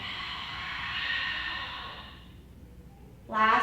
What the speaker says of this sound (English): Exhale to side out the mouth, let it go